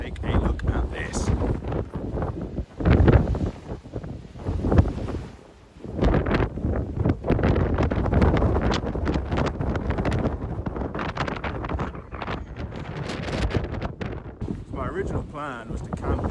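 Strong wind batters the microphone on the clifftops at Durdle Door beach, a heavy continuous roar with gusty buffeting swells throughout, loud and close.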